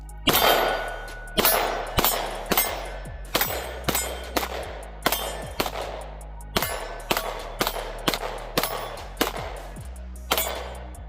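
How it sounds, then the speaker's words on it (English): A Springfield XD Mod 3 pistol fired one-handed, about twenty loud sharp shots in a steady rhythm, each ringing out briefly with an echoing tail, no talking. "Let's shoot it one-handed here."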